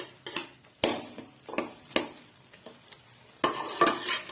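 A spoon stirs chicken yakhni pulao in a pot, giving irregular scraping strokes and clinks against the metal with a faint sizzle between them, close and alone without talk.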